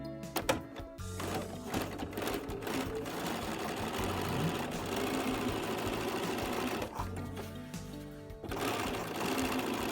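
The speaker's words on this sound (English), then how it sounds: "I'm going to flip it over and just do my stay stitching from the neck around to the center front." A sewing machine runs steadily, stay stitching around the neck edge of a spring coat with a continuous mechanical whir and rapid needle chatter, close and fairly loud, with brief pauses near the start and middle.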